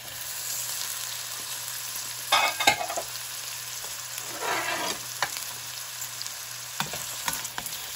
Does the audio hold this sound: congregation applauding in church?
no